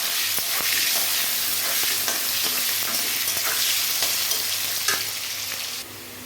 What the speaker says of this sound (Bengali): এবার ভেজে দিচ্ছি আলুগুলো।